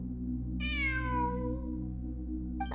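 A cat in a video game lets out a single drawn-out meow, clear and fairly close, over a steady low ambient hum. A brief faint click follows near the end.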